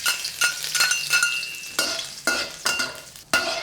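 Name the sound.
stir-frying ginger in hot oil in a wok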